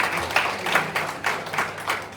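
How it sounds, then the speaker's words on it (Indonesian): Audience applause at an Indonesian-language event, with a few rhythmic waves of clapping in quick succession, fairly loud and close, with no voices over it. "Kasih tepuk tangan yang paling gemuruh untuk kita semua hari ini ya."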